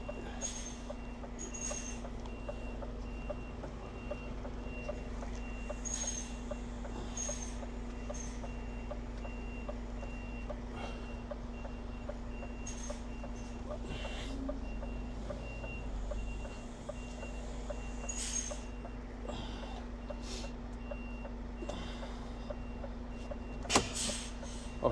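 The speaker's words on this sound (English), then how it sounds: "I don't like reversing in here when it's busy." A delivery truck reverses on a busy Bournemouth high street, its beeper pulsing in a steady repeating rhythm over a constant engine hum and background traffic.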